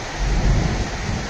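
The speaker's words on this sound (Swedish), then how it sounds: "Kommer en liten åskknall alldeles strax här." Low rumble of thunder during a rainy evening storm at Ohrid, rolling through a brief swell over steady rain hiss, fairly loud and distant-sounding, no voices.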